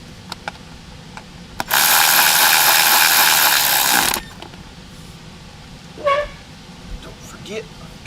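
Ratchet wrench snugging down spark plugs on a 3.5L EcoBoost engine in a 2017-2021 Ford F-150, heard as a loud, steady burst of rapid clicking lasting a few seconds, with faint handling noises before and after.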